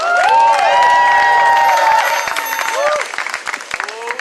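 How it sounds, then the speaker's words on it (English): Loud applause and cheering from a crowd at an abolition march in New York City, with excited voices and whoops over steady clapping that thins out toward the end. "Clap it up for Ghost!"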